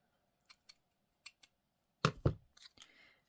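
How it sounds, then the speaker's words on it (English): Fabric scissors snipping, a few light isolated cuts followed by two louder, longer close-up slices and a couple of quick trailing snips, heard alone while decorating paper Christmas ephemera. "Let's get my sewing scissors. That works better. Or my fabric scissors"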